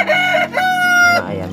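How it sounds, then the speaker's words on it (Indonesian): A laying hen in a backyard coop gives loud, close, drawn-out cackling clucks in two quick bursts, with no talking. "Oh, ayamnya lagi bertelur."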